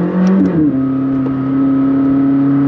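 A McLaren 600LT engine drones loudly and steadily, its pitch sweeping upward as it accelerates, heard close and alone.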